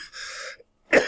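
A lecturer with a lingering illness and hoarse voice coughs in a physics class, making two rough, close bursts separated by a brief pause.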